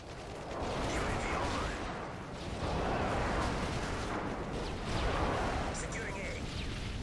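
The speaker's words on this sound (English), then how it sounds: "Enemy airstrike approaching." Enemy airstrike explosions in the video game Call of Duty: Modern Warfare 3 roll as a continuous, dense roar of blasts that swells and fades in repeated waves.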